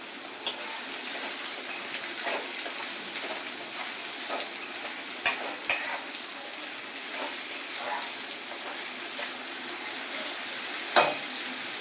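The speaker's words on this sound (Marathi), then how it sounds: "कांद्याचा कलर चेंज होईपर्यंत आपण कांदा शिजवून घेऊ" Salted onion sizzles in a pan with a steady frying hiss, broken by a few spoon-on-pan clinks and scraping stirs, cooking near the mic for mutton curry.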